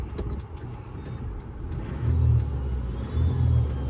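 Cars rush past fast on the M61 motorway, a steady roar of traffic with two louder surges as vehicles sweep by close, heard from the roadside beside a stranded car.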